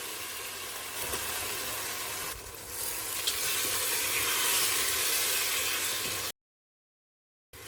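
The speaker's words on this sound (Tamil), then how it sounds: "இப்போ சிக்கன் சேர்த்து வதக்கலாம்" Chicken sautéing in a pan, heard as a steady close hiss and sizzle with a few stirring scrapes, ending in abrupt silence, with no talking.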